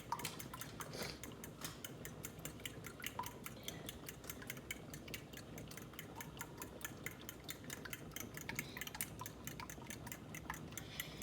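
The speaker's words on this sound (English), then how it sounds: "up with a spoon or whisk and then mix them up" Eggs are whisked in a bowl with a spoon or whisk for egg drop soup, a quiet, rapid run of light clinking and scraping taps that goes on steadily with no talk.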